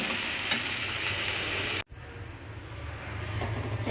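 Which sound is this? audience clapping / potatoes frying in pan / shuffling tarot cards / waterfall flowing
potatoes frying in pan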